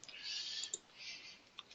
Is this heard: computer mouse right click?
yes